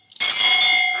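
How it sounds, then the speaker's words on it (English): A single bell rung once at a sports news segment, a bright metallic strike with a long ringing sustain, loud and alone. "One bell ring for Samens."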